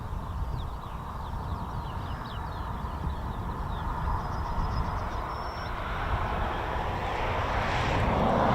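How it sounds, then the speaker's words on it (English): A distant F-35 fighter jet approaching at RAF Marham, a low broadband engine roar that slowly swells louder toward the end, heard alone without talk. "So we've got at least one F-35."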